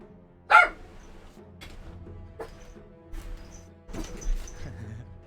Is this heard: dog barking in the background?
yes